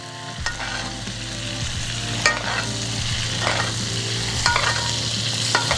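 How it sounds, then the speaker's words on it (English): Ribeye steak sizzling steadily in a pan while being basted with butter and garlic, a loud continuous fry with brief spoon scrapes and spattering bursts throughout. "So look, as it's cooking, we just want to go ahead and just baste."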